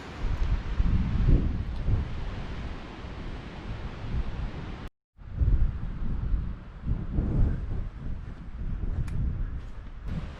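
Wind buffets and roars in gusts across the microphone on a walk in Dove Dale, with a brief dropout midway before the blustery rush resumes.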